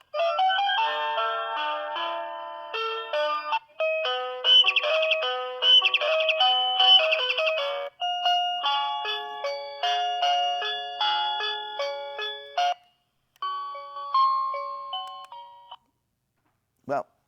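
A Bluetooth alarm clock runs through its selectable alarm sounds, a string of bright electronic chimes and melodic tones played one after another, loud and close, with short pauses between tunes and a brief click at the end.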